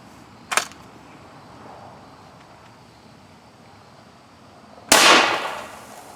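Two sharp gunshot-like reports from a surplus Type 99 rifle outdoors: a brief crack early on, then a louder blast about four seconds later with a trailing decay, separated by quiet wind-like ambience.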